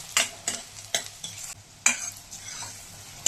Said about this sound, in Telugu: ఆనియన్స్ గోల్డెన్ బ్రౌన్ కలర్ వచ్చేదాకా వేయించుకోవాలి.